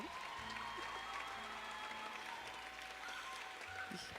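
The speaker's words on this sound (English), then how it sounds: "Another round of applause for the UJ choir." Steady applause from an audience at a university strategic plan launch event, following a choir performance, fills the whole stretch, a dense even clatter of many hands heard from a distance at low level.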